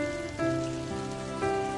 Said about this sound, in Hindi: बारिश की आवाज